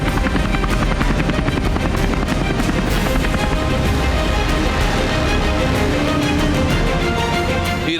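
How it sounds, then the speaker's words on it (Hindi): A loud, continuous roar of many Iranian military helicopters flying together during a show of force, their rotor blades beating a dense, rapid thump over a heavy engine drone that fills every moment without a pause. "इस बार ईरान ने मैदान जंग में एक दो नहीं बल्कि 100 हेलीकॉप्टर्स की ताकत दिखाई है, जिसकी गर्जना से"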